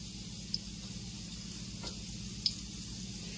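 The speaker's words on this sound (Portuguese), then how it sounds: "Ok, eu vou continuar a fritar." Codfish fritters (pataniscas de bacalhau) fry gently in olive oil, giving a soft, steady sizzle at low volume with two small sharp pops.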